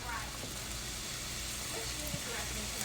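Egg rolls dropped into hot oil for American-style frying give off a steady, dense sizzle and crackle that runs unbroken from start to finish, close and fairly loud.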